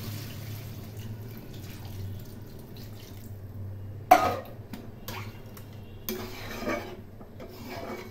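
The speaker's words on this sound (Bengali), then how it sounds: "এখন আমি এর মধ্যে ঝোলের জন্য জল দিয়ে দেবো" Water is poured into a pan of fish-roe masala for a Bengali fish curry: a soft, close sizzle and gurgle with one sharp clatter and scraping, with no talk over it.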